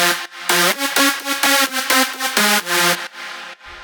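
A bright, buzzy big room EDM lead synth chord pattern ducked by Kickstart sidechain on the 3 punch preset at 90%, giving loud stabs that pump rhythmically and dip between beats before a short tail.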